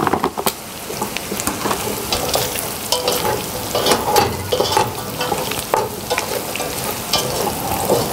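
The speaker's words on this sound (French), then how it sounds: "Nous allons maintenant ajouter le beurre." Butter sizzling and frying in a pan with aromatic vegetables, a busy crackling hiss with scraping stirring strokes, close and steady.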